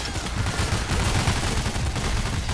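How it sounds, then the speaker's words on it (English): Dense, continuous gunfire in the Payday: The Heist co-op shooter during a police standoff, overlapping rapid shots forming a loud, steady barrage with no pauses. "I'm shooting them because they're aiming up"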